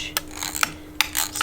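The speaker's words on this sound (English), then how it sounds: "I'm going to cut them up with my cutter, just like the previous batch." A cutter slicing through dairy-free sourdough cracker dough made with olive oil, giving a few short rasping scrapes and light taps close by, with no speech.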